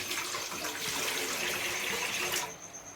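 Water gushes steadily from a tap into a metal idli steamer pot for a couple of seconds, then cuts off abruptly, leaving a faint hum.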